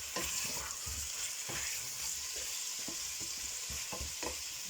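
Pork ribs sizzle steadily in a hot pan for a Spanish stew while a utensil scrapes and stirs them in several irregular strokes, the frying hiss constant and close underneath.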